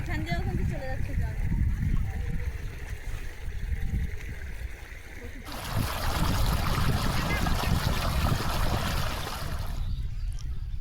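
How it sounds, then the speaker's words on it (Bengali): Water trickles and gurgles steadily through a field irrigation channel, close and continuous, beneath a person speaking, with a louder, broader rush of flow in the second half. "এই দেখো এখান দিয়েও কিন্তু চলে যাচ্ছে জল"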